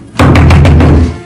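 Heavy knocking on a locked door, a loud run of about six rapid close thumps in quick succession, alone with no talking.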